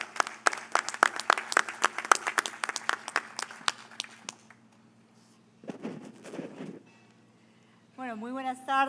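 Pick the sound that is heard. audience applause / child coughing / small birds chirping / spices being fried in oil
audience applause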